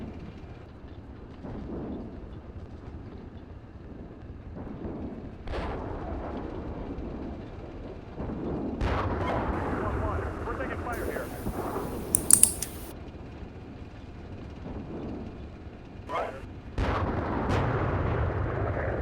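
Artillery fire during a combat fire mission alongside a tank battle: scattered dull booms and rumbling bursts rise over a steady low background, with a sharper crack near the middle.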